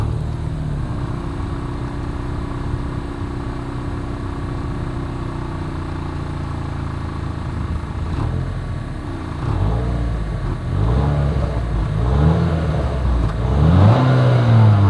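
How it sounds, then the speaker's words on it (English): A 2023 Acura RDX luxury compact SUV's engine revs through its dual exhaust outlets, a steady close idle rumble that climbs into several rising and falling revs toward the end, with no talking. "As always, here is that exhaust clip."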